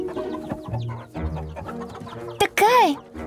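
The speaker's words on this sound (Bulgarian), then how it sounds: "Пилетата ми са нервни." Cartoon chickens cluck in an animated children's show, with nervous squawks rising at the end, heard over background music and a character's voice.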